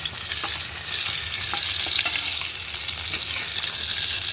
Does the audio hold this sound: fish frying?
yes